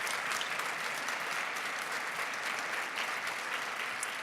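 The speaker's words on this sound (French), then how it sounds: "Vous pouvez applaudir." Sustained applause from an audience at a graduation diploma ceremony, a dense, steady wash of many hands clapping throughout, fairly distant and even in level.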